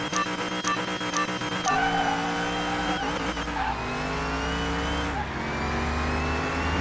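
A McLaren race car engine in a driving game roars continuously up close, revving and shifting through gears with rising and falling pitch, a faint tire squeal and no talk.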